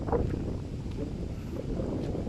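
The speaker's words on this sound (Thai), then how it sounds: "ลมอาจจะวิววิววิวนิดนึง นะครับ ยังไงต้องขออภัย FC นะครับ" Gusty wind blows through eucalyptus trees on open farmland in Wang Phai, Thailand, making a steady, rough rush of air buffeting the microphone.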